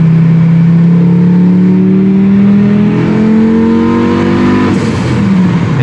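A car engine revs hard toward its rev limiter, loud and close, its droning pitch climbing steadily over several seconds before a brief shift near the end, with no talking.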